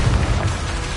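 Dense, loud blast of a Confringo explosive spell in Hogwarts Legacy, a rough booming burst that fills the whole second without pause.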